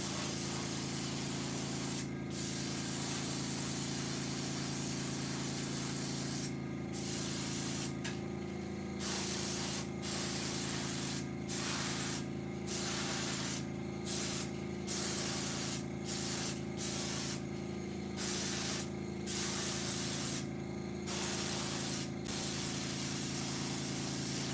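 Spray paint applied to a crankbait fishing lure with an airbrush: a steady hiss over a constant compressor hum, broken by short bursts, close and with no talk.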